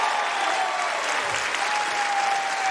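Tennis crowd at the US Open applauding and cheering during a tight final set, a loud, steady, continuous wash of clapping close up throughout.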